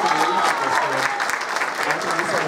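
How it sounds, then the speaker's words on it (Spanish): An audience claps steadily for a performer who has just been introduced, at a Canarian rondalla music group's costume event in an auditorium. The applause is dense and sustained, and voices can be heard faintly mixed in. "un aplauso para ella"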